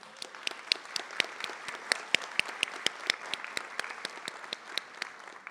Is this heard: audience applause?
yes